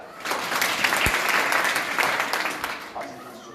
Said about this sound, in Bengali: একটু হাততালি হবে না?